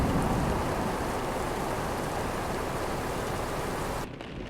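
Thunderstorm rain in the Euro Truck Simulator 2 video game, a dense, steady hiss of downpour that drops in level abruptly near the end, with no voices.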